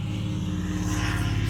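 Loud, steady roar of passing traffic from a busy highway outside, a continuous low engine drone that fills the moment with no talk.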